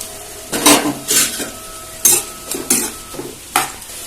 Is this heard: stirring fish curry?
yes